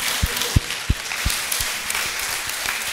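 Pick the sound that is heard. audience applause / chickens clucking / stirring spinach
audience applause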